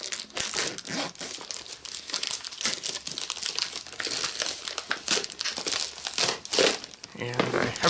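Packs from a Magic: The Gathering Modern Horizons 2 bundle being torn open and crinkled: close, continuous crackling and rustling of foil wrappers, with someone talking throughout.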